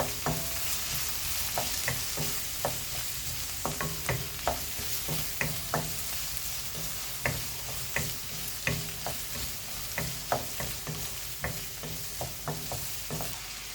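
Chopped garlic sautéing in oil in a pan for ennai kathirikkai puli kulambu, a steady close sizzle broken by regular spatula taps and scrapes about once a second, with no talking.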